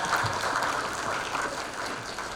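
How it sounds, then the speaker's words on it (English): An audience at a Sheraton hotel gathering in San Gabriel, marking the 130th anniversary of General Chennault's birth, applauds Nell Calloway. The clapping is a steady, even patter that holds throughout at moderate loudness. "let's give her a round of applause for that"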